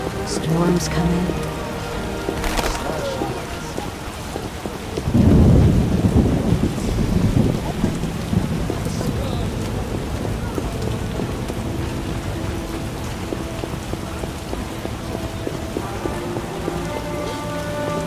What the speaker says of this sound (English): Storm's coming.